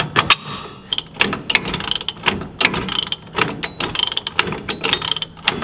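A ratchet tightens bolts on a Toyota Tacoma shock guard: rapid bursts of close, crisp clicking repeat steadily in short strokes, with no talking.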